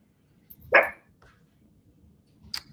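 A single sharp dog bark rings out nearby, followed by a softer yip moments later in an otherwise quiet space.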